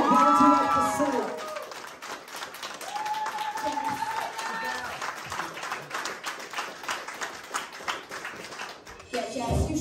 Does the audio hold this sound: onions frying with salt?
no